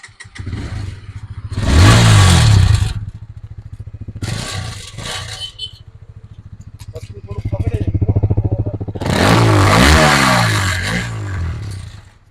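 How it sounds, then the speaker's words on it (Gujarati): A used Honda CBR motorcycle with about 30,000 km on it, engine idling close by with a steady low thrum and several sharp revs that rise and fall. Someone talks over part of it. "એન્જિનનો અવાજ તમને સંભળાવવામાં આવશે"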